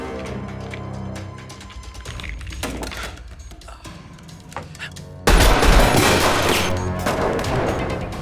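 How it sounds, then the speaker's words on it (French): Scattered bursts of gunfire crack throughout, with a loud, sustained volley of shots erupting partway through and continuing to the end. "Il y a encore des coups de feu."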